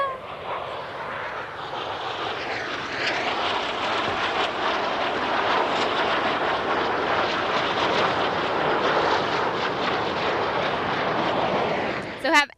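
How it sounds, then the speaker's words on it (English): A Boeing Super Hornet fighter jet passes at an airshow in Abbotsford, a loud sustained roar that swells and holds for several seconds before trailing off. "That's a fighter jet plane called the Super Hornet."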